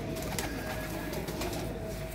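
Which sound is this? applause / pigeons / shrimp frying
pigeons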